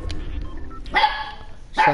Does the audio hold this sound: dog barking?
yes